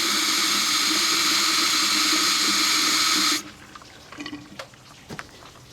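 Old coolant flushing out of a Ford Econoline E350 cooling system, a steady loud rush of liquid for about three seconds that cuts off abruptly, followed by faint drips and small splashes.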